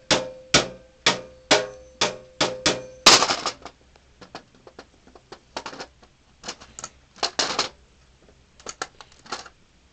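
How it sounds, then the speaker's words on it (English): Sharp hammer blows land in a quick regular series, followed by scattered lighter taps and clattering knocks, close by. "I'm going to hammer something real quick."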